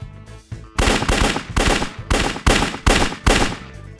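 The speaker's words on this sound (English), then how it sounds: "I'm going to line up my firing squad. Aim and fire." A video game firing squad lets off rapid volleys of gunfire, about six loud, close bursts in a quick, uneven rhythm with short gaps between them.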